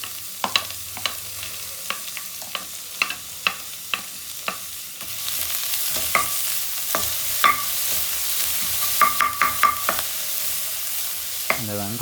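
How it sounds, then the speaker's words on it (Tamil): About twenty sliced small onions sautéing in a pan, a spoon clicking against the metal in irregular taps before a loud, steady sizzle takes over with more stirring clatter; no talking. "இப்போ நல்லா வெங்காயம் வதங்கிருச்சு."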